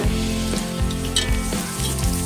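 Garlic sizzles in a hot pan for chicken tinola, a strong, steady frying hiss that swells briefly now and then as it is stirred, close up with no voices.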